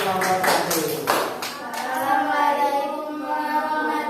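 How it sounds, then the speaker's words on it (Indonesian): A classroom of students applauds a presenting group, a short burst of brisk clapping that fades after a couple of seconds as voices begin speaking over the room. "tepuk tangan dulu untuk kelompok satu."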